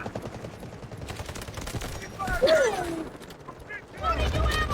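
Gunfire in the shooter game Delta Force: steady rapid shots rattle under people talking, with a louder burst near the end.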